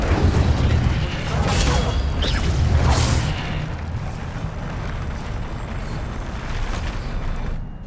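The Incendio fire spell is cast in Hogwarts Legacy, bursting out as a loud roaring whoosh with deep rumble that eases into a sustained fiery hiss.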